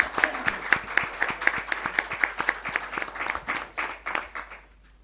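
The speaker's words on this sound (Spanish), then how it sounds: "pido un aplauso para él" Audience applause at a book presentation about a band, a room of people clapping steadily for about four seconds with sharp individual claps, then thinning out and fading to quiet.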